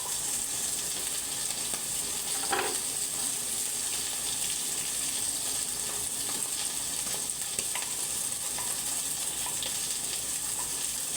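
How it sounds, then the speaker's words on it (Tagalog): Chicken seasoned with sweet paprika, onion powder, garlic powder and salt sizzles steadily on the grill, a continuous close-up hiss with faint scattered pops and no talking. "Grilled lang natin siya. Luto lang natin siya ng mga 5 minutes or less."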